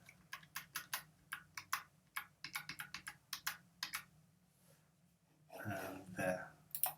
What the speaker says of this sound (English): I'm using my arrow keys here on my keyboard to physically connect them